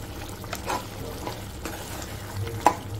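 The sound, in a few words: stirring mutton curry with coriander powder in a pan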